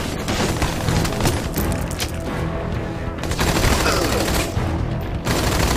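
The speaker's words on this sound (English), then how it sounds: "Tossing a grenade." Grenade blast and sustained automatic gunfire in the Army of Two: The Devil's Cartel video game, a loud, dense wall of rapid shots and booms that runs continuously with brief dips in intensity.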